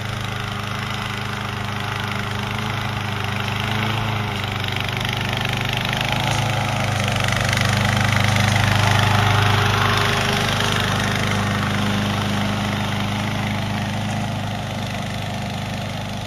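A new 22T vehicle drives across flat property, its engine giving a steady, continuous drone with a low rumble that swells slightly mid-way, heard up close with no talking.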